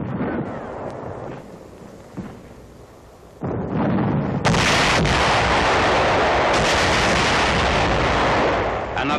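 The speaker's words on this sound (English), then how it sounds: "Another section being cleaned out by satchel charges." Satchel charges go off in combat as caves are cleared, heavy booming blasts mixed with gunfire, loud and continuous, the roar swelling sharply midway and staying dense to the end.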